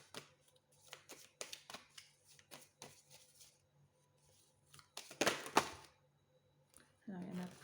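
Tarot cards are shuffled and drawn by hand in a quiet room, with a run of soft riffling flicks, a louder crisp shuffle burst near the end, and someone speaking French between the card sounds.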